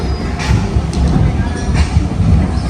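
Steam train arriving at Havenstreet Station on the Isle of Wight: a steady close rumble of rolling stock with faint hisses and squeals, and a voice talking over it.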